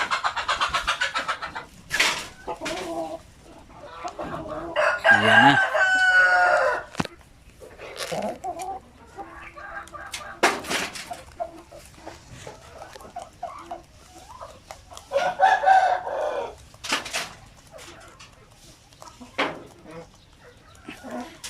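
Chickens clucking and a Basilan rooster calling in bursts, with people talking nearby between the calls.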